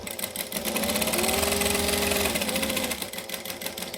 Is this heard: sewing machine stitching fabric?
yes